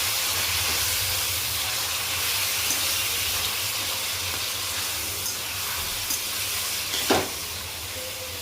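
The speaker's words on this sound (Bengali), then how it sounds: "এবার ম্যারিনেট করা মাংসটা দিয়ে দিয়েছি।" Marinated chicken sizzles in hot oil in a kadai along with bay leaves and dried chillies, a steady crackling hiss with a few sharper pops and clinks near the end.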